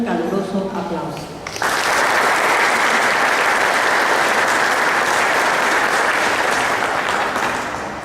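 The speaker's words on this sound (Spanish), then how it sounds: "a quien también brindamos un caluroso aplauso." Audience applause fills a conference hall at a legal conference, a dense sustained clapping that swells in after a brief spoken introduction and holds steady, loud and close, until the end.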